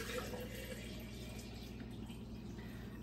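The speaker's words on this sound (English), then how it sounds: "Add that to my jar, fill it with water." Tap water runs steadily into a glass jar holding dry beef soup base for a crock pot hamburger dish, a continuous close hiss of filling liquid, fairly quiet with no talking over it.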